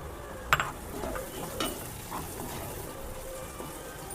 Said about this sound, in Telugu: ఇప్పుడు గ్రీన్ చిల్లీ వేసుకుందాం